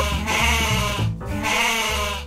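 A goat bleats twice in close succession, loud and near, each call a drawn-out wavering cry with a short pause between them and no talk over it.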